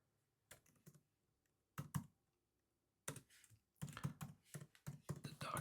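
Keys clack on a computer keyboard while entering data into a spreadsheet: several separate bursts of rapid, close, fairly loud keystrokes broken by short silences, with no voices.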